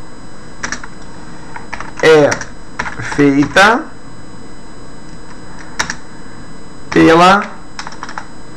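Light clicks of typing on a computer keyboard come through sparsely beneath a teacher's voice during a physics lesson on force and motion; the keystrokes are faint and scattered while speech dominates.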